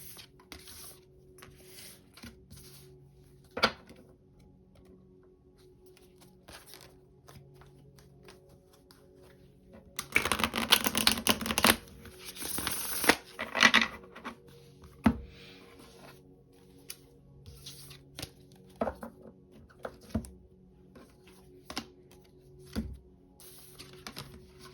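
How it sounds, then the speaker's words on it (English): Tarot cards are shuffled by hand, with a burst of dense riffling and rustling midway, a few scattered card taps and handling sounds before and after, and otherwise fairly quiet. "Once I finish shuffling all these damn cards"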